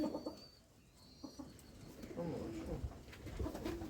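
Wood pigeon squabs are hand-fed in a village setting, with soft cooing and bird calls close by alongside rustling and handling noises. There are no voices.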